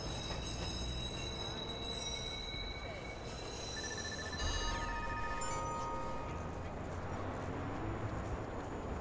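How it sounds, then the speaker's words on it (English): Train arriving at a station in the Watch Dogs video game, a steady rumbling roar with long, high metallic wheel and brake squeals that shift pitch as it slows. "Northbound train, arriving shortly."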